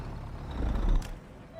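A truck engine in American Truck Simulator idles roughly with revs sagging toward a stall, a deep low rumble swelling to a louder throbbing peak before dropping back to a quieter idle.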